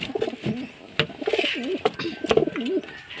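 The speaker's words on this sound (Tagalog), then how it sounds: "Ayan mga kalapatids." Racing pigeons in a backyard loft give repeated soft, throaty coos in short rolling phrases, close by, mixed with a few sharp clicks and faint chirps.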